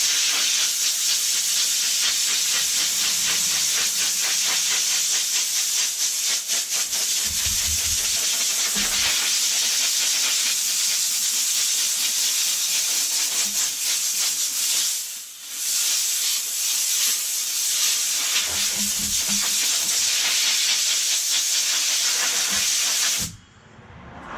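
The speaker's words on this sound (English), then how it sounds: "Just grab your air compressor after it gets filled, and just blow it out." Compressed air from a filled air compressor blows out a part on a 285,000-mile 7.3 Powerstroke diesel engine during a tune-up, a loud steady hiss running almost without a break before cutting off at the end.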